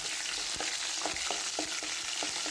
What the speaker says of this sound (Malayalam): ഓയിൽ ചൂടായി ഓഫ് ചെയ്ത ഇഞ്ചി വെളുത്തുള്ളി നന്നായി മൂപ്പിച്ചെടുക്കാം